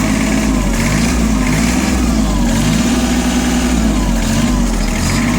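A Japanese ISEKI SIAL TF223F tractor with a front-mounted implement runs loud and close with its engine cold, holding a steady, even drone with only slight throttle changes rather than hard revving.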